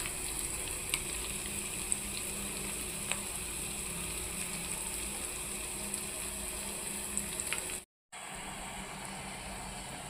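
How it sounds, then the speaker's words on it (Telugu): Onions frying in oil with turmeric in a pan, a steady broadband sizzle running evenly and close, with a few faint pops, then a brief dropout near the end before the frying hiss resumes. "ఇప్పుడైతే ఆనియన్ అయితే బాగా వేగినాయండి"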